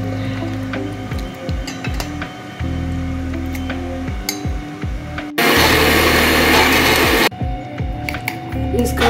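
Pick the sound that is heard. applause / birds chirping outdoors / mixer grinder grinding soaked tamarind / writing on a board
mixer grinder grinding soaked tamarind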